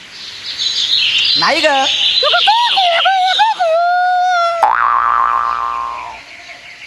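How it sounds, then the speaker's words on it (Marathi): A cartoonish bird-call sound effect in a Marathi comedy show: a run of sweeping, whistled chirps that rise and fall, ending in a long falling tone, loud and close, with a brief spoken phrase over it. "मग हा कोणत्या तरी पक्ष्याचा आवाज आहे"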